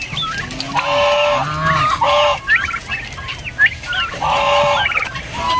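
Native local turkeys call nearby in repeated honking, gobbling bursts that overlap and come in quick rhythmic clusters throughout.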